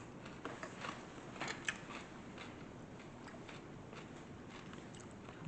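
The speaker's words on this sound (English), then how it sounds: "What am I eating? Well, I told you what we're eating. A cucumber sandwich." Close, soft bites and crunchy chewing on a cucumber sandwich made with no bread, as a few crisp clicks followed by a quiet, steady mouth-noise background.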